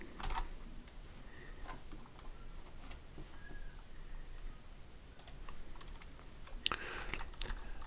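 Scattered key clicks and taps on a computer keyboard while code is entered, coming in uneven bursts with pauses between them, fairly quiet and close against a low room hiss.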